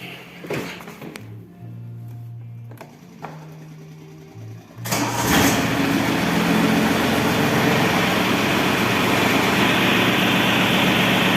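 A Japanese mini tractor's engine cranks over and catches, then runs loudly and steadily close by, after a quieter stretch with a few brief mechanical tones.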